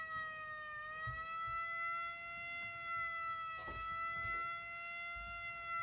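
An electronic circuit imitating a World War II air-raid siren produces a steady, faint electronic tone rich in harmonics that slowly dips and holds, sounding alone with light background clicks.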